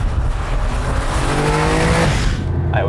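A collector's Porsche drives hard, its engine note climbing in pitch over a rough road rumble, with a hint of tire noise, before it cuts off sharply near the end, loud and close.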